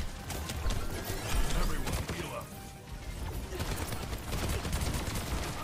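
Fireworks crackle and pop in the video game Overwatch 2, a dense, steady barrage of sharp bursts at moderate loudness with a brief lull midway.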